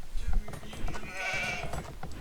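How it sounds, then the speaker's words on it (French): Sheep bleat in the Age of Empires 2 strategy game, a couple of nasal wavering calls over a busy bed of game effects and low rumble. "Oh, j'ai trouvé 2 moutons."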